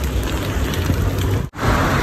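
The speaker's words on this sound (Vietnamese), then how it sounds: "mưa đá nè các bạn ơi, ghê chưa?" Hail and snow falling outdoors during spring in Denmark, a steady dense patter of pellets and flakes hitting surfaces, continuous and fairly loud, with a brief dropout near the end before the hiss resumes.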